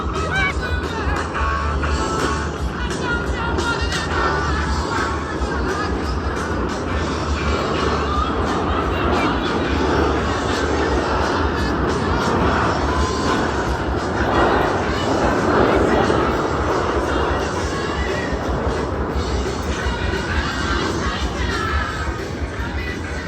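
US Navy Blue Angels jets flying in close formation at the Jones Beach airshow, a broad continuous far-off jet roar blended with crowd noise, with a commentator talking over it.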